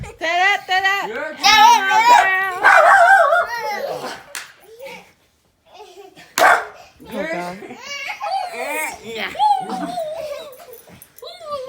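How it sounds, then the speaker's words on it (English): A dog whimpers and barks in whiny, drawn-out bursts near the listener, with children's voices and talking mixed in around it. "What a useless dog."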